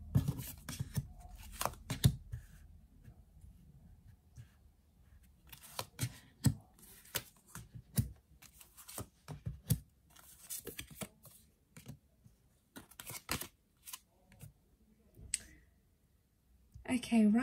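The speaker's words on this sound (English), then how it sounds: "let's lay out some cards" Tarot cards are laid out one by one: soft slaps, shuffles and clicks come in irregular bursts, close and quiet, with soft speech in between.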